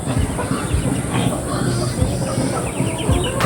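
Breeder chickens on a farm cluck in soft, irregular bursts over a steady background hum, nearby and moderately loud, with no clear speech.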